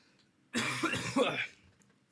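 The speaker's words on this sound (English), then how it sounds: "I also apologize if I cough a few times, just like I'm about to now" One harsh, close cough bursts out loudly for about a second, followed by quiet.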